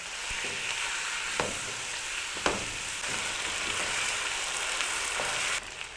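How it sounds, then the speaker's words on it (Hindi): Chicken fries with onion and paste in a pan, giving a continuous moderate sizzle with a few sharp scraping clinks from stirring, no talk. "चिकन को हमने प्याज और पेस्ट के साथ भून लेना है।"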